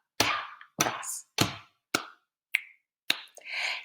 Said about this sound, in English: Pat, cross, pat, clap, snap